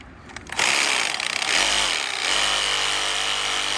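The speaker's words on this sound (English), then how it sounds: "maybe I'll break out the sawzall for this" A Sawzall reciprocating saw bursts to life and cuts steadily into a bonsai tree's wood, loud and close with a harsh buzzing roar for about three seconds.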